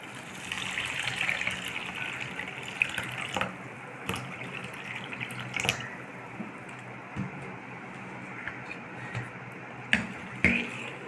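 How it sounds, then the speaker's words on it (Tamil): Water is poured over jaggery in a vessel to make panakam for Rama Navami, a soft running trickle and gush with scattered light knocks and clinks of utensils, close by but fairly quiet. "அதுக்கு தேவையான அளவுக்கு தண்ணி விட்டுக்கலாம்"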